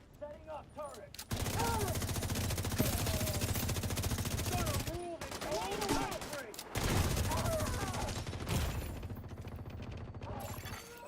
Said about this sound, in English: Setting up turret.